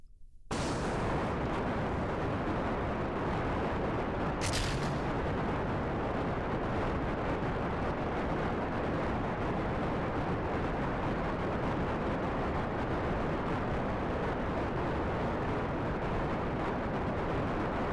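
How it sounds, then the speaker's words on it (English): A rocket explosion in Kerbal Space Program erupts as a loud, dense roar that fills the whole stretch, a sustained blasting rumble with a sharp burst near the start and no voices over it. "That explosion, by the way, really good."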